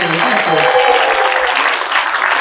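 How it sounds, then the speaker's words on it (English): Audience at a live science-themed gaming show claps in a steady, dense round of applause, loud and sustained with a faint cheer or voice mixed in. "a round of applause for the first half and for Eddie and Beckie and TJ!"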